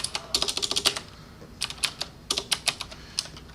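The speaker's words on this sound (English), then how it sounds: "I'm going to go to North, F2, End on the keyboard, and Elevation." Computer keyboard tapped in quick bursts of crisp, close keystrokes with short pauses between groups, no voices.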